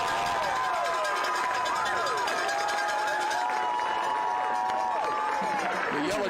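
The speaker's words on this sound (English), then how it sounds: "Listen to this crowd." A large high school football crowd roars and cheers continuously and loudly at a B.B. Comer vs. Vincent game, with whistles, shouts and distant applause over a dense wash of noise.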